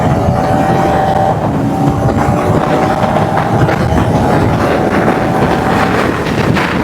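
A 400cc adventure motorcycle at speed, pulling hard through its gears, with a steady engine whine buried under loud, constant wind roar from the moving ride.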